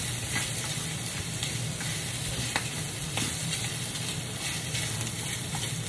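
Chopped onions sizzle steadily in a hot pan for a homemade pizza topping, a dense, continuous frying hiss with occasional stirring scrapes and light pops throughout.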